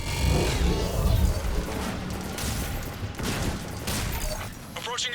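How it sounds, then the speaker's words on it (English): In the video game Mass Effect 3, rapid bursts of weapon fire crack and boom amid crashing impacts and mechanical clatter, loud and close, with talk in between. "Just following the gunfire"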